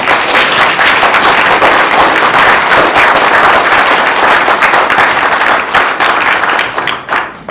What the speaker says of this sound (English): I wasn't expecting that applause,